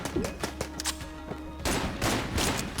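Sniper enemies firing in the video game Exit the Gungeon, a burst of sharp shots in quick irregular bursts, followed by a denser, louder flurry of gunfire near the end.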